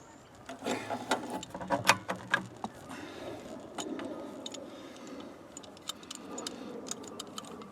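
An adjustable wrench tightens a soft copper compression fitting on a ceiling furnace flue connection, giving close metallic clicks, scrapes and jangling knocks, busiest in the first few seconds, then sparse ticks over a low workshop hum.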